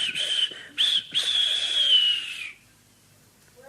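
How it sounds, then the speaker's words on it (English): Steam engine whistle from Thomas the Tank Engine, a shrill sustained blast broken by short gaps, then one long drawn-out note that cuts off into near silence. "And he whistled very impatiently."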